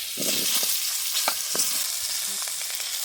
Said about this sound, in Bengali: পেঁপেগুলো আর আলু একসঙ্গে ভেজে নেব।